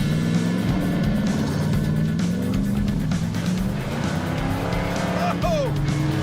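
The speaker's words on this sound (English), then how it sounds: "This thing basically is a 68 Roadrunner." A 1968 Plymouth Road Runner with a 383 V8 and four-speed runs off-road, its engine roaring loud and steady throughout with a brief tire squeal near the end, while people talk over it.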